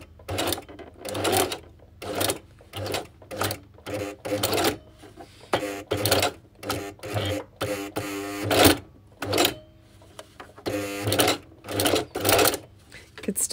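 A Singer 4411 industrial sewing machine stitches through a thick jean hem seam in short bursts of rapid mechanical clatter that stop and restart, with brief pauses between runs and faint talk in places.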